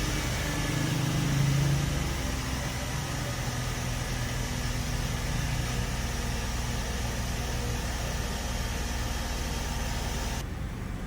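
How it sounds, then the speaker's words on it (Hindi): A Wagon R car engine idles steadily during an idle relearn procedure targeting 850 rpm, giving a continuous, even hum close by that runs uninterrupted for the whole stretch, with no voices. "वैगन अब हम इसका आइडल लर्न करवा रहे हैं।"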